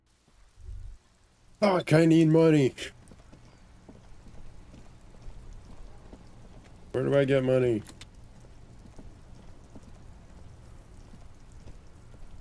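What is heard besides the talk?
rain in the video game Disco Elysium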